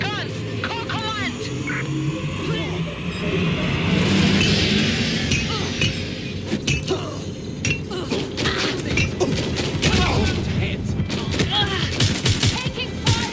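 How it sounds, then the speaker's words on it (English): Rapid bursts of gunfire and metallic clinks ring out during a firefight in the video game Watch Dogs: Legion, loud and sustained, with shouted voices over the shooting. "Taking fire! Get me together! I need backup now! Shots fired!"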